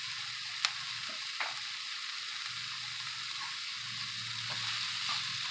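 Diced Roma tomato goes into a pan of sweating vegetables and sizzles in a steady, soft hiss, with a few light spoon clicks and scrapes as it is stirred.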